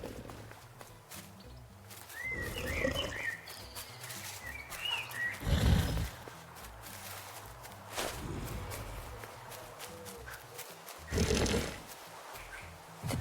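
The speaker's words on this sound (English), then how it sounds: "The pig inhaled a giant snort of air." A pig in the video game The Last Campfire snorts and grunts in short, breathy bursts spaced several seconds apart, with soft shuffling steps and faint chirps in a quiet marsh setting.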